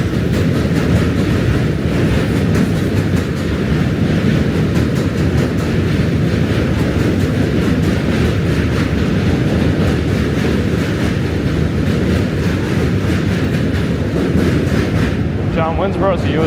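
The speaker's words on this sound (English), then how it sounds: "Train's back." New York City subway train passing in Manhattan, a loud continuous rumble and rattle of wheels and cars sustained close by for the whole stretch.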